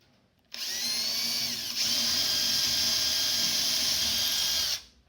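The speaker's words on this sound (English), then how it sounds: "As you drill more holes." A power drill whines loudly for about four seconds, pitch shifting slightly as it bites into a wall, then spins down and stops.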